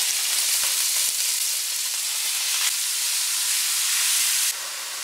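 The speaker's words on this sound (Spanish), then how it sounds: "en la cazuela tengo como 6 cucharadas de aceite. Está bien caliente y así es como las voy a poner." Chicken fajita strips hit a pot of very hot oil over high heat, giving a loud, dense, hissing sizzle that holds steady throughout and eases slightly near the end.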